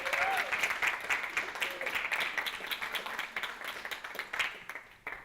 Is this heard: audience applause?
yes